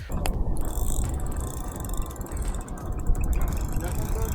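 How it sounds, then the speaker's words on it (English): Okuma Flite surf fishing reel with its drag clicker ratcheting as line is pulled out, a dense, rapid, continuous clicking close up and loud throughout. "The drag clicker sounds great when pulling in the drag."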